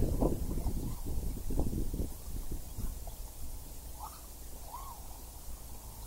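Wind gusts buffet a microphone outdoors during a micro drone flight, low rough rumbling bursts that are strongest early and ease off, fairly faint overall, with a few soft higher chirps near the end.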